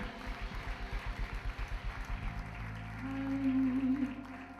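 Rhythmic clapping from a church congregation during a worship service, steady and even, with a sustained musical tone and crowd sound rising in the background.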